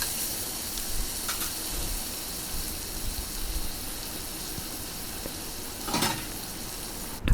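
Tomatoes frying in hot oil in a pan for a tomato chutney give a steady, close sizzling hiss that runs throughout, with a couple of brief clinks near the end.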